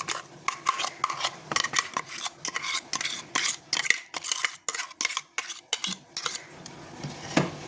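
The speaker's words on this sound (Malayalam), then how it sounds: "ഇനി ഇത് നമുക്ക് ഈ ചിക്കനിലേക്ക് ഇടാം." Ground spice paste scraped from a container into half a kilo of raw chicken in a bowl for a kanthari chicken fry: close, rapid metallic spoon clatter and scraping in an irregular rhythm, with no talk.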